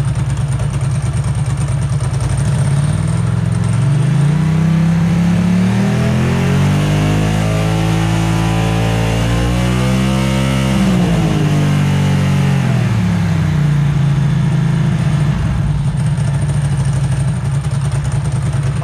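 Ducati 2V fuel-injected engine running while its throttle bodies are balanced, loud and close, rising smoothly in revs to a sustained higher pitch and then falling back to a steady idle.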